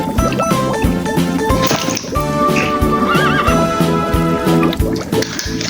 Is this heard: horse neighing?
yes